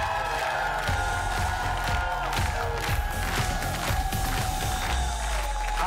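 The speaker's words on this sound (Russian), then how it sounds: "тогда эти аплодисменты ваши" Studio audience on a Russian TV game show applauds and cheers steadily throughout, a dense, continuous wash of clapping with scattered whoops and some voices mixed in.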